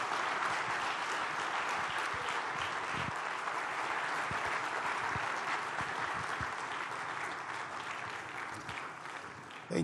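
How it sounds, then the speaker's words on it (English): An audience at a Nigerian forum on democracy and the free market applauds warmly to welcome Bishop Matthew Hassan Kukah, steady dense clapping that carries on for about ten seconds and fades slightly near the end. "Please join me with a warm applause as we welcome once again to the platform Nigeria Bishop Matthew Hassan Kukah."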